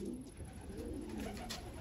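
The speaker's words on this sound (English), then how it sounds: "And there's the two-time ace pigeon." An 11-year-old two-time ace racing pigeon in a loft gives a soft, low, warbling coo, faint and close with light background hiss.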